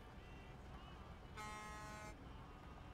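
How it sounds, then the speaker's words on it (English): Truck horn in the video game Snowrunner, sounding once as a short, bright toot in the middle of a quiet game background. "Three honks for luck."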